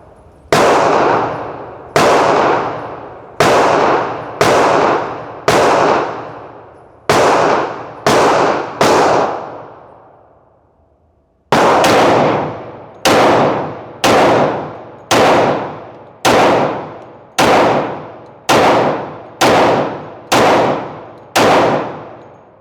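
Sharp, loud Glock 40 Gen4 pistol shots fired one after another in two strings, each crack ringing out with a short decaying tail, with a brief pause between the strings.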